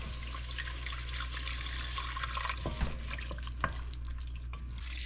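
Clam broth being poured into a roux for chowder, a steady close trickle and splash of liquid with a few sharper drips and plops.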